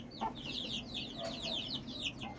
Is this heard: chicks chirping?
yes